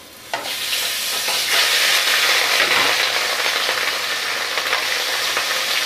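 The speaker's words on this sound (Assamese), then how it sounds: "এতিয়া প্ৰথমতে মই মাছখিনি ভাজি ল'ম" Four pieces of rohu fish fry in mustard oil in an iron wok, giving a steady, loud sizzle. It starts just after a soft thud and holds through the clip with faint scraping and stirring.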